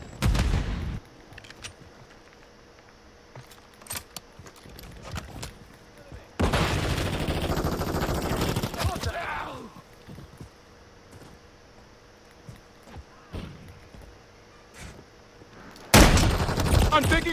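Gunfire in a multiplayer shooter video game, with scattered shots and sharp cracks, then a long, loud burst of sustained automatic fire midway and another heavy volley near the end, over quieter in-game ambience.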